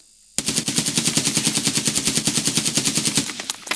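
A SCAR-L rifle in Escape from Tarkov fires one rapid, unbroken full-auto burst of about twenty-five evenly spaced shots, loud and close, with no talking.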